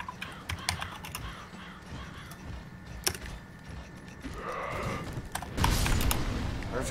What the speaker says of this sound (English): you can hear me typing really loudly